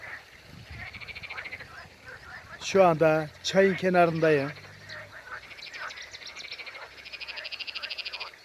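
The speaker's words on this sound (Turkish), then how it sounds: "kurbağa sesleri, sadece çiçekler değil, kurbağalar da nasıl ses yapıyor?" A chorus of frogs croaking by a stream in rapid, rattling pulses close by, continuing throughout, with a person speaking briefly in the middle over the croaks.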